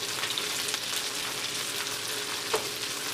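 Bacon and Brussels sprouts frying in a pan, a steady close sizzle with light crackle and a brief stir near the end.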